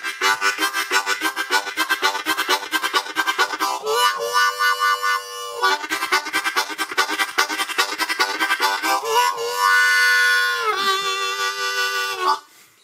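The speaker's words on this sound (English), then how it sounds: "It's the train rhythm. So it sounds like this." A blues harmonica plays a chugging train rhythm using chords, with rapid pulsing breathy chord bursts punctuated by a few held notes that bend, loud and steady, without talk, for about twelve seconds.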